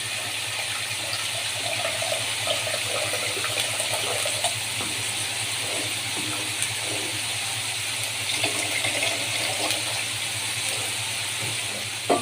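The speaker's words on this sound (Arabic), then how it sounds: "هنزل بقى بالميه." Tap water runs steadily into a cooking pot for pasta being made as crispy fried macaroni, a continuous gushing flow lasting the whole stretch, fairly close and alone with no talk.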